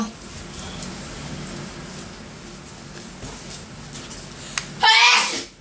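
A single sharp, loud human sneeze bursts out near the end, after several seconds of quiet indoor room noise with faint voices in the background.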